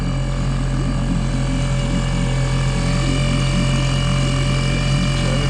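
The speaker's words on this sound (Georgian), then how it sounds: "ცოტა მივცეთ კიდე გაზი, თან ვაძლევ რა, მაინც აპკატკაზია ძრავი" A boat motor on a fishing trip toward the source of the Sioni runs loud and steady as throttle is given, a constant buzzing drone with a strong low hum.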